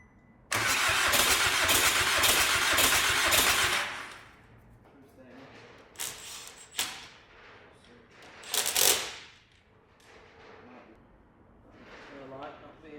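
A VW Caddy 2.0 BKD diesel engine with no downpipe fitted cranks and fires loudly for about three seconds, then cuts out. Quieter clatter and someone talking follow.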